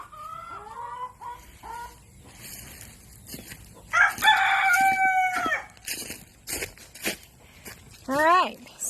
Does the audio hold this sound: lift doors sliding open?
no